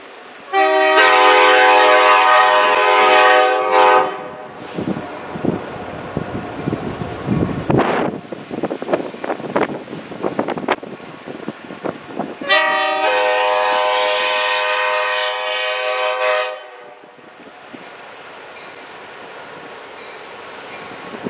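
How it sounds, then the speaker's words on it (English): Pere Marquette 1225 steam locomotive on a 2021 North Pole Express run passes a road crossing, with two long, loud horn blasts framing heavy chugging, clanking and rumbling cars, plus wind buffeting the microphone. "the first place we caught the train at was back at the South McCullen Road Railroad crossing, southeast of town."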